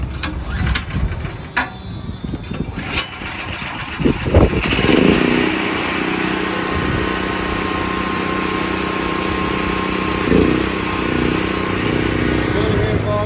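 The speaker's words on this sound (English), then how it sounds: "turn your generator on" A portable generator cranks with a few rough mechanical bursts, catches and settles into a steady, close, continuous running drone, with a brief surge partway through.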